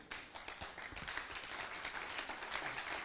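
A congregation at a church service clapping together, fairly quiet and somewhat uneven, with individual claps audible in a short burst.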